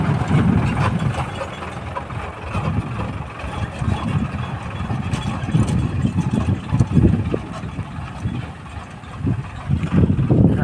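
A newly bought tractor's diesel engine runs nearby in a steady low rumble, with mechanical rattling and ticking over it and no voices.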